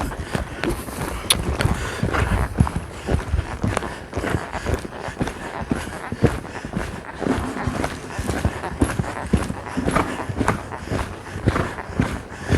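A horse lopes under a rider in a training session, its hooves beating a steady three-beat rhythm on the ground, fairly close, with faint movement noise around it.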